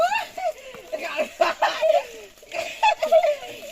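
Water from a pump splashes and spatters close by, cold water pouring over people bathing, while they talk and laugh over it.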